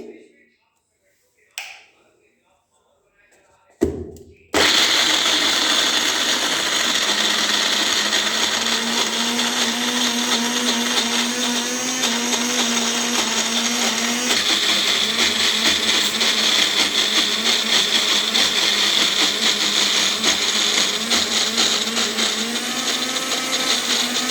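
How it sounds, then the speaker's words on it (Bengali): Electric mixer grinder jar blending green peas, ginger and green chilies: a few short taps, then a loud, steady whirring drone running continuously for about twenty seconds, close up with no voice over it. "এটা পিষে নিই মিক্সির জারে। দেখো পিষে নিচ্ছি।"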